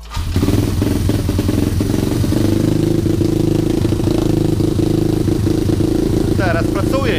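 A motorcycle engine runs steadily after repair work, a loud close rough idle with a throbbing mechanical clatter that carries on evenly throughout.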